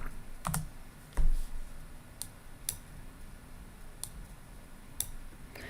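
Light, sparse clicks of a computer keyboard as a name is typed, a handful of separate keystrokes spread over several seconds against a quiet room hum, with one duller thump partway through.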